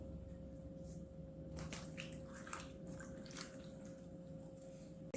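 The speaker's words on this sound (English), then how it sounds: "separate the rings, just, push through it so they kind of open up, and swish this around" Onion rings swished by hand in a bowl of water, giving soft, quiet sloshing and squishing in short bursts over a steady low hum.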